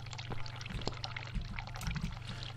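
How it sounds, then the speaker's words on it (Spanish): Running water in the horror game The Cat Lady: a steady, faint pour with a low hum underneath. "Escucho correr el agua, debo apurarme."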